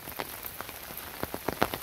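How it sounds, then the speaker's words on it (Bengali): Rain falling during the monsoon fishing season, pattering steadily on surfaces with scattered heavier drops striking close by, moderately loud and with no voices. "বর্ষাকাল, একদিকে বৃষ্টি হইতেছে"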